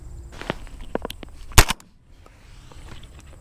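A single loud, sharp shotgun blast during a bird hunt, preceded by soft rustling and shuffling and followed by a quiet outdoor stillness.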